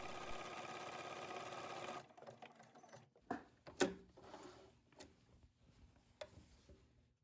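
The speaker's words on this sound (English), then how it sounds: "Switch to your buttonhole foot and adjust it so that the finished buttonhole is 1 inch long." Sewing machine stitching a one-inch buttonhole with a buttonhole foot: a steady close mechanical whir for about two seconds, then stops, followed by faint scattered clicks and handling taps.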